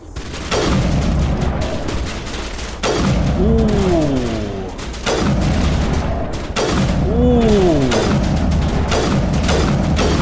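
Loud, dense bursts of rapid gunfire roll on almost without pause in the PC game Mass Effect Legendary Edition, joined by booming impacts and swooping electronic tones, with a voice talking over the shooting.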